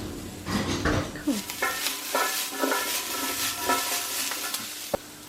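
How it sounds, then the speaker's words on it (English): Asparagus, broccoli and oyster mushrooms sizzling in a very hot pan, with a bright crackling fry and repeated scraping stirs and clatters of a utensil against the pan, up close without speech. "So I try and get a little bit of black on all the veggies I cook."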